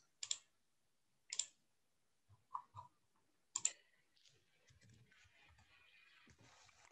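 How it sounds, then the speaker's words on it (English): A few sharp, isolated computer keyboard key presses spaced apart, followed by quieter soft tapping, close and faint, with no speech. "we need to just type this function again"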